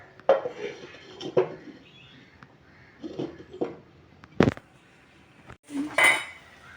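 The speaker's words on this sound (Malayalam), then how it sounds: "ഇത് മൂടി വയ്ക്കുക" A pot of fish curry being handled and covered with its lid, several separate metallic clanks and clinks of pot and utensils spread through the stretch, fairly close, with no talk.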